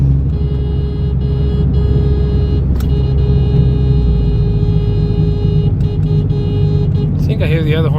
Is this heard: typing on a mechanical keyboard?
no